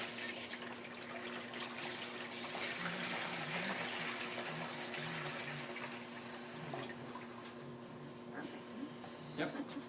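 Water pours steadily from a jug into the plastic tub of a glass cutting saw, a continuous close trickle and gurgle with someone talking over it.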